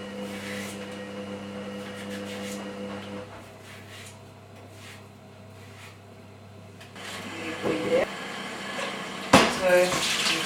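Tap water runs while green bananas are washed, a steady splashing flow that fades midway and returns with louder clatter and splashes toward the end.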